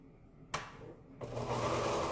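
A sewing machine stitching quilt fabric, set to stop with the needle down, gives a sharp click, then starts a steady, close whirring run that holds to the end.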